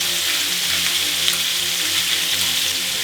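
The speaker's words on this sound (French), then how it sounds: "Et les riz de veau dans la poêle." Veal sweetbreads sizzling in a pan of duck fat heated to 200 degrees, a steady, close, loud crackling fry that continues without pause.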